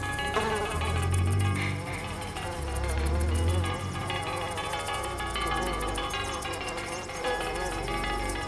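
A wasp flying off a flower in a garden, its buzzing wings droning steadily and fairly close under a dense music bed throughout.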